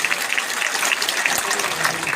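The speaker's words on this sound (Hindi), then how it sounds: "जोरदार ताली बजाओ नरेंद्र मोदी के लिए" A rally crowd in Thandla claps for Narendra Modi, a dense steady wash of applause from many hands, moderately loud and sustained throughout with no clear speech on top.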